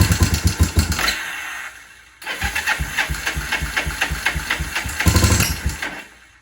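Motorcycle engine with a bad tick, loud and close, running in a lumpy, pulsing idle that dips and picks up again, the rapid mechanical beat steady throughout.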